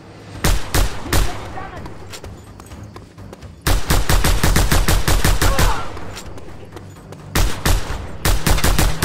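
Rapid gunfire from snipers and combatants in Just Cause 2, loud close bursts of repeated shots in dense volleys with brief pauses between them, with voices shouting underneath.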